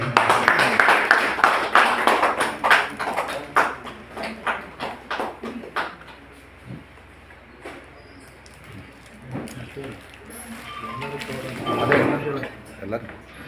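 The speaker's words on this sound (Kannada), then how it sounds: "ಚಪ್ಪಾಳೆ ಅಣ್ಣ" An audience claps at a farewell ceremony honouring a retiring driver. The applause is dense and lively at first, then thins into scattered claps, with voices talking over it.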